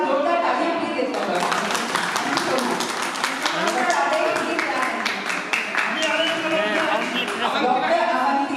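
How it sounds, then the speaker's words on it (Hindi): An audience claps steadily in a dense patter that carries through the whole stretch, with voices and other sound mixed in underneath. "जोरदार तालियां प्लीज दें"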